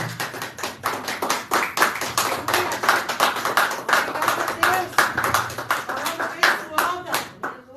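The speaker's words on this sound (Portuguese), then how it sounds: "Você pode aplaudir o Senhor nessa manhã?" A church congregation claps for the Lord during a morning service: steady, dense hand-clapping that stays loud throughout, with voices mixed in.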